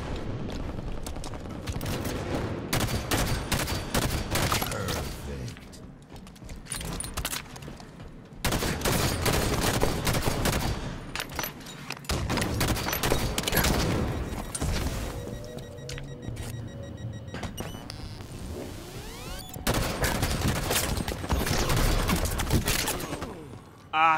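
Gunfire in the video game Halo 5: Guardians, with bursts of automatic and single weapon fire, including a railgun on the field, coming in dense clusters separated by short quieter gaps, loud and continuous through most of the stretch.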